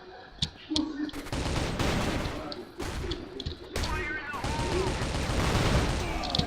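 Rapid, dense gunfire from the video game CrossFire on an Egypt map fills the scene, bursts of shots stacking into a near-continuous fusillade with a few louder single cracks, close and loud.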